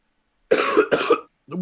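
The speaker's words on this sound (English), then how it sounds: "he's smoking and I'm coughing" A man's coughing fit: two harsh, closely spaced bursts of coughing, near and fairly loud, followed by a brief rough throat sound after a short pause.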